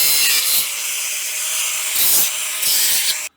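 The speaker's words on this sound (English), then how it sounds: "So what we're going to do, we'll cut some of this off." A push rod from an old rusty Dodge is cut short with a steady, harsh abrasive rasp. The cut runs close and loud for about three seconds, swells in brief surges, then stops abruptly.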